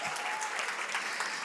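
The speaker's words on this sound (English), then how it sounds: "I think we should give her a round of applause." Audience at a women-in-tech panel session at a summit clapping steadily, a dense continuous round of applause heard close by with no talking over it.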